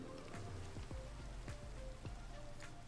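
Rain falls in the Minecraft video game, a constant close hiss of raindrops with scattered soft taps and patters running through the whole stretch.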